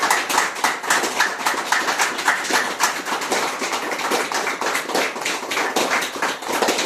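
Audience clapping loudly and rapidly in a treatment-technique session, a crowd of hands beating fast continuous claps that stay close and energetic throughout without pause.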